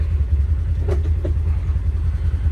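A Polaris General UTV with suspected clutch problems pulls off for a test drive, its engine a steady low rumble with a couple of faint clicks partway through.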